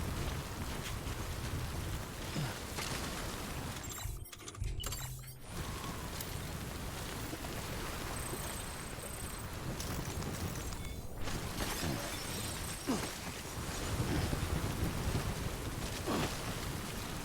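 Steady timefall rain hissing and pattering in a video game world, a constant wash of noise with a brief muffled dropout partway through and a few faint impacts, no voices.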